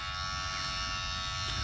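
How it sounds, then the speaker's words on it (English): An electric shaver buzzes steadily after an hour of charging, its motor sounding weak and strained. The hum is close and continuous with no voices. "after charging the shaver for an hour, it already sounds like it's dying"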